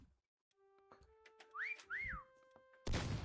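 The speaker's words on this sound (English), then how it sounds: "The fucking whistling is coming from every direction." Whistling in the co-op video game Meccha Chameleon: two clear rising-and-falling whistled notes stand out over faint sustained game tones, followed by a sudden loud thud or crash at the end.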